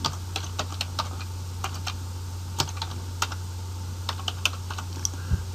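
Rapid, uneven keystrokes on a computer keyboard during data entry into an Excel form, clicking close and crisp in short bursts over a steady low electrical hum, with no talking.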